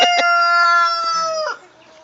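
A young farm rooster crows once, loud and close, a long tonal, slightly strained call lasting about a second and a half before fading to quiet.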